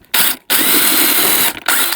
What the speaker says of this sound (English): A little hole pre-drilling action.